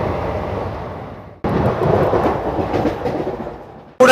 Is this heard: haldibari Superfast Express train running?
yes